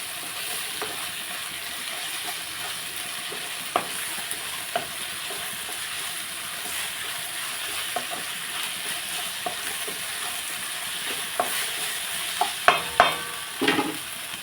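Chicken pieces frying in a pan for a Sunday chicken curry with ginger paste make a steady, close hiss and sizzle. Occasional stirring clicks and scrapes come through, growing busier near the end.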